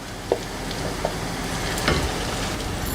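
Ground masala paste frying in a pan for Tamil kara kuzhambu with curry leaves, a steady close sizzle with a few soft stirring knocks throughout, no voices.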